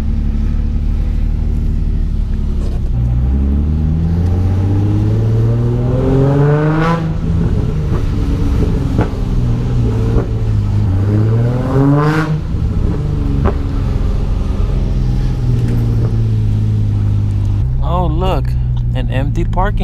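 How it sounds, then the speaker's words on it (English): Rear-wheel-drive car spinning donuts in a rain-soaked empty parking lot, its engine droning and repeatedly rising and falling in revs with a whooshing sweep, close and loud throughout, ending in a fluttering burst. "I got into this parking lot and I started doing donuts, just messing around."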